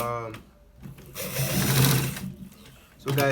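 A sewing machine runs a short stitching burst on a collar shirt, a quick mechanical whir rising and fading within a few seconds, close and fairly quiet.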